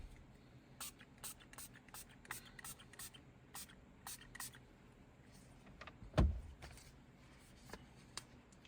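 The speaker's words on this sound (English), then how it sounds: "So we are going to spray more solution on the screen." Cleaning solution sprayed onto the touchscreen of a RAM TRX truck, one short hissing spray burst inside the cab amid quiet handling noises and light tapping.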